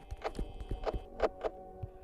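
An animatronic in a horror video game takes a series of soft, regular footsteps, thudding dull and low at a moderate distance over a faint electronic hum.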